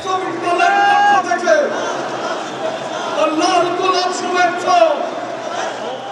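A large crowd at a political rally in Bangladesh chants slogans loudly and continuously, voices rising in rhythmic waves as the leader greets them from the stage.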